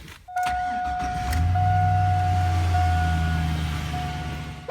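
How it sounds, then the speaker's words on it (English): A 2002 GMC truck engine idles steadily with a low rumble and a faint high whine, close by and continuous. "start the truck, let it run, and check for any leaks"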